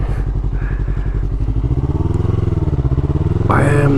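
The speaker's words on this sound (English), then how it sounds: "There's a lot of grunt on this bike." A 2019 Yamaha R3 motorcycle engine revs up while riding, a close, loud pulsing growl that climbs steadily in pitch, then swells louder near the end.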